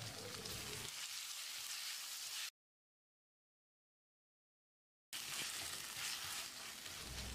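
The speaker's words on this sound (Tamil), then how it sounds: "1 டீஸ்பூன் உப்பு சேர்த்து தக்காளியை மசிகிற அளவுக்கு வதக்கிடலாம்" Chopped tomatoes sauté with salt in a pan, a steady close crackling sizzle with light stirring that cuts out briefly midway and then resumes.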